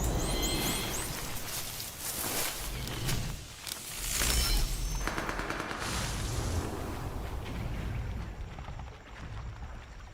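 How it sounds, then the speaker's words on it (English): Generic gunfire and explosion effects from a PlayStation game trailer, a dense continuous barrage of shots and blasts with heavy low rumble throughout, with a brief louder surge midway. "These are very generic sounding gun and explosion noises that bird just flew through."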